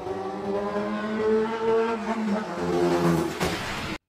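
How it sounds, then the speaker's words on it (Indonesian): Motorcycle engine approaching from a distance in a film scene, a steady droning engine tone with shifting pitch that swells and holds loudly for about four seconds before cutting off abruptly. "tiba-tiba terdengar suara motor"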